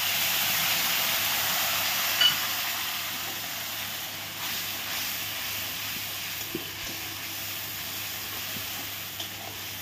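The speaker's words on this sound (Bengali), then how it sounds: "এখন একই তেলে আমি ফোড়নের জন্য দিয়ে দেবো 2টো শুকনো লঙ্কা আর কালো জিরে" Dried red chillies and nigella seeds crackle in hot oil with a continuous broad hiss, close and fairly even, with a few faint clicks scattered through and no talking.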